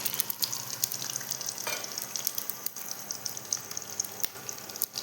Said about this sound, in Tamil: லைட்டாக பொரிஞ்சதுக்கப்புறம் இந்த இஞ்சி, பூண்டு சேர்த்துக்கலாம்.